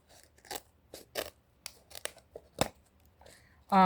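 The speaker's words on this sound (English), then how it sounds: "When you're cutting this wire ribbon, do not use your best scissors." Scissors snip sharply through wire ribbon several times in an uneven rhythm, with crisp cutting and crinkling sounds close by, ending in a brief loud rustle.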